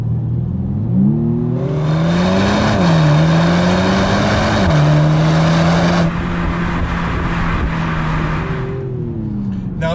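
A 2019 BMW M135i xDrive four-cylinder engine revs loudly and steadily, pitch rising and dipping through several throttle blips with a continuous droning note throughout.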